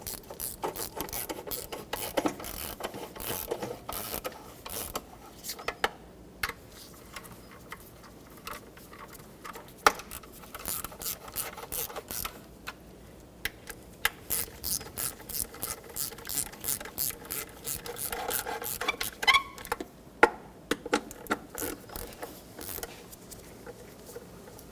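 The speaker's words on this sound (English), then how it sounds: "Now with my 12mm socket and extension, I'm going to start from the center out, and I'm just going to snug them up before I torque them." A 12mm socket ratchet on an extension clicks in quick runs of pawl ratcheting while snugging knock sensor bolts on a 2014-2019 Toyota Corolla 1.8L four-cylinder engine, close up and fairly quiet with brief pauses between strokes.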